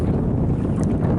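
A north wind blows across choppy river water beside a boat, producing a steady, close rush of wind buffeting the microphone with no voices.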